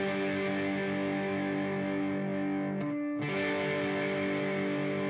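Slow intro riff of a song on a distorted electric guitar, sustained chords ringing steadily with one brief dip in the middle, no talking.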